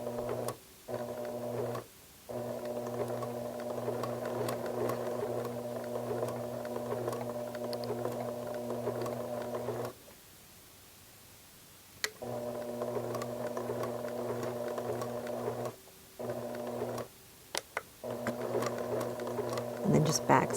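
Sewing machine stitching across a snipped knit fabric mend, a steady close hum in long runs broken by short pauses, with a voice talking over parts of it.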